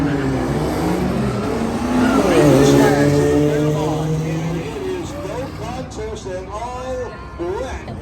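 A supercharged 1933 Ford drag car with a 2-liter four-cylinder making 300 horsepower revs hard at a midnight drag race, its engine note rising and sweeping loudly before dropping back to choppier revving, with a voice speaking over it.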